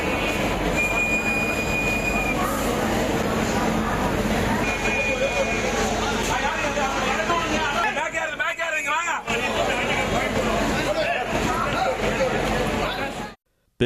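An express train runs through Tambaram railway station with loud rumbling wheels and long metallic squeals, close and continuous; voices and station noise mix underneath before the sound cuts off abruptly.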